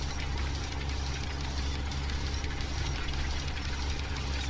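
A tractor engine in Farming Simulator 17, ploughing and cultivating on hilly ground, drones steadily with a low, dense rumble and a constant roar, unbroken and close.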